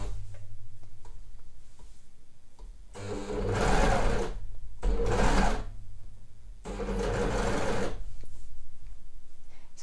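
An overlock sewing machine stitches a sweatshirt neckline in three loud, close bursts of fast, steady whirring, with quiet pauses between them.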